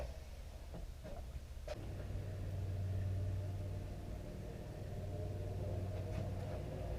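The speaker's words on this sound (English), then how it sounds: "So I'm going to go with the bandsaw" A bandsaw cutting small pieces of wood for a sunrise feature ring, a steady low motor hum and rumble with a few light taps before the blade settles into a continuous drone, no talking.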